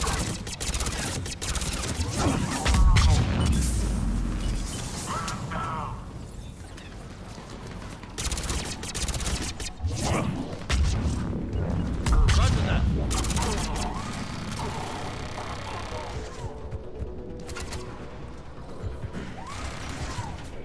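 Automated turrets fire in Mass Effect 3 on Insanity difficulty: dense, rattling bursts of rapid gunfire with mechanical clanks run through the scene, loud and continuous with short lulls, while a voice talks at times over the action.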